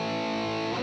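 Electric guitar played through a Line 6 POD X3 Live with the stomp box distortion engaged and amp drive at 80%, a thick sustained heavily saturated tone held loud for under a second, no voices.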